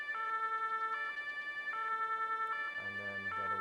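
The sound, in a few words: emergency vehicle siren from a video game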